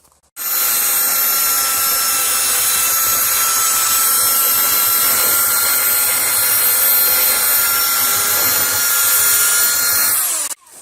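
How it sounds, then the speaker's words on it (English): A small power deburring tool runs against the rough bare-metal edge of a van window opening, a steady high-pitched whine with grinding texture that starts abruptly, holds for about ten seconds and then cuts off. "It's rough metal, bare metal, so it needs to be filed, sanded, and deburred with this pretty cool little deburring tool that Frank has."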